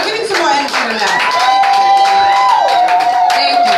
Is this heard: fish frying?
no